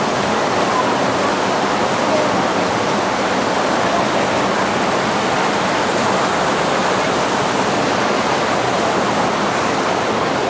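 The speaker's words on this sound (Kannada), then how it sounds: "ಅಲ್ಲಿಂದ ನೀರು ಬರ್ತಾ ಇರೋಂಥದ್ದು." The Umngot River at Dawki rushes over rocks in a constant, dense roar of flowing water. It stays loud and unbroken from start to finish, with no other sound standing out.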